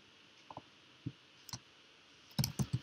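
Computer keyboard keys tapped while entering commands into a terminal to run a React app: scattered single clicks, then a quick close burst of several keystrokes near the end, no talking.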